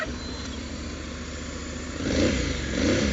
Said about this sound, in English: Oh, listen to that lovely engine sound.